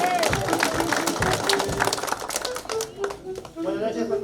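Guests at a birthday party clap for Víctor, a dense patter of hands under ongoing talk and music, steady through the whole stretch.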